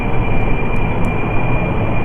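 A plane's engine in Kerbal Space Program drones steadily and loudly as the craft lifts off, a dense unbroken roar with no voices.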